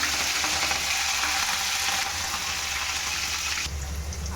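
Urad dal and mustard seeds fry in hot oil in a pan on a gas stove for a masala dosa, giving a continuous loud, close sizzle with crackling that stays steady throughout.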